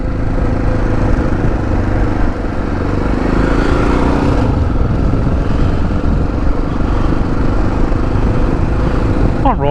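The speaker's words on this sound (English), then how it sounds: "I'm riding a touring bike too" A touring motorcycle cruises along a country road past Marysville, its engine a steady, continuous drone with heavy wind rush throughout and no clear gear changes.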